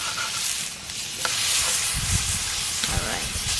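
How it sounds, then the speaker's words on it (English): Paneer grilling for a sandwich, a steady close hiss and sizzle running the whole time, with occasional clicks and bumps of cooking noise mixed in. "It's grilling the paneer here."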